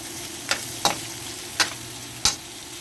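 Fried rice, Jamaican style, stirred in a pan indoors, with a faint steady sizzle under four sharp spatula scrapes spaced irregularly, close and fairly loud, no voices.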